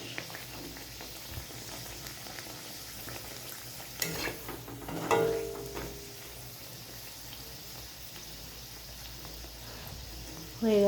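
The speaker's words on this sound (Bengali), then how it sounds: "একটা ভালো করে ভাজা হয়ে গেলে তারপর আর একটা ভাজবো।" Food frying in hot oil in a wok, cooked one piece at a time, gives a soft, steady sizzle with a few clattering stirs in the middle and a louder burst at the very end.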